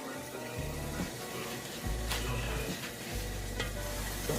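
Food frying in olive oil with chickpeas, salt and pepper, a steady close sizzle with scattered pops and stirring scrapes, a low hum running underneath and no talking.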